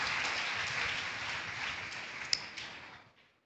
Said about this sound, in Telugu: మరొకసారి చప్పట్లు కట్టి యేసయ్యను మహిమపరచుదాం